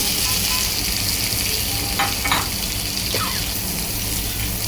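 Green chillies and onion sizzle steadily in a hot pan for a radish stir-fry, a constant close hiss with a couple of faint clinks from stirring, no voices.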